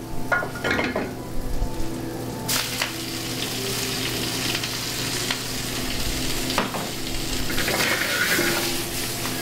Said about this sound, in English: now I'm going to cook some spinach, again with the clarified butter